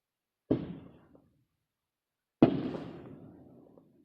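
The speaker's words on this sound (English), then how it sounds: "Sorry, that's fireworks." Two sharp fireworks bangs outside, the first followed by a short decaying rumble and the second, about two seconds later, trailing a longer crackling echo, with silence between.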